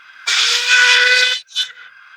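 A loud, breathy steam whistle blows for about a second, followed by a short second toot with a hissy edge.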